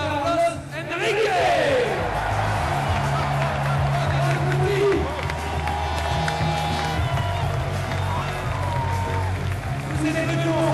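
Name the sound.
audience applauding football player Carlos Enrique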